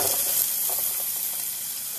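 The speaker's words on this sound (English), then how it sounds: "and saute it for about 1 to 2 minutes until it gets translucent" Chopped onion sautéing in about five tablespoons of hot oil in a pan for a potato cauliflower curry, giving a steady, close hiss and sizzle with faint crackles throughout.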